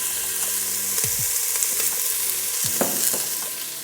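Onions fry in coconut oil in a pot with a loud, close, continuous sizzle and a few scraping strokes of a spoon stirring them.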